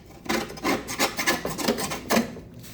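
Metal scraper rasping caked grass gunk off the underside of a Poulan push mower deck, a run of rough, rhythmic strokes up close with no talking.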